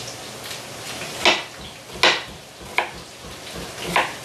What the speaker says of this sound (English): There you can hear the papas sizzling.